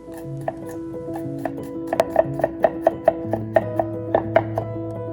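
A knife chops onion, garlic and green onion on a cutting board in a quick, steady run of crisp knocks, close by, with soft tonal sounds in the background.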